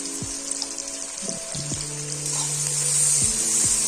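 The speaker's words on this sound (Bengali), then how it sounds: "পেঁয়াজটা ভালো করে ভেজে নেব গোল্ডেন ব্রাউন করে।" Onions sizzle steadily in hot oil with salt and turmeric, the frying loud and close, while a few clinks and a faint running-water hiss sit underneath.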